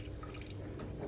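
Quiet, brief trickle and drip of water while a sample is drawn from a leaking Worcester Bosch boiler during a service, heard close over faint background noise.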